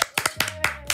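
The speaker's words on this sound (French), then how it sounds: "Sous vos applaudissements." Studio audience applause greets a guest arriving on a television set, heard as a handful of sharp, distinct claps in quick irregular succession, close and crisp, with a faint tone lingering beneath.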